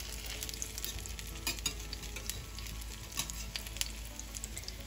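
Homemade potato cakes fry in a pan with a steady, moderate sizzle and scattered crackling pops, heard up close and on their own with no talking.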